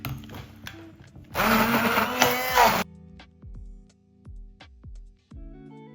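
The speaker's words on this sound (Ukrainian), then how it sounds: "Все це збиваю блендером." A blender whirs loudly for about a second and a half mixing Oreo cheesecake filling, then stops, followed by a few soft clicks and knocks.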